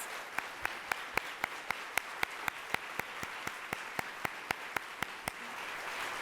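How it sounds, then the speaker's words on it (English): Slow, evenly spaced claps ring out one at a time in a steady rhythm, sharp and distinct against a quiet background. "Let's give them all a round of applause."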